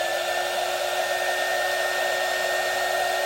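A heat gun blows steadily and loudly on shrink tubing for an Epiphone Les Paul guitar, a constant whooshing hum like a hair dryer with no pauses or voices.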